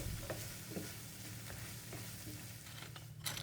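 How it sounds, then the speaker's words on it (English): Vegan scrambled tofu with nutritional yeast being stirred in a frying pan: a constant sizzle with regular soft scraping strokes of the utensil, close and fairly quiet. "Once again, stir it all round, the yeast will melt into the mixture"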